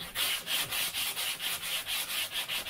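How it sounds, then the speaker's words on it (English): Hand sanding wood on the pusher tail of a BD5 kit aircraft, a close, regular back-and-forth rasping stroke repeated about a dozen times in a steady rhythm. "Now I want to sand it down"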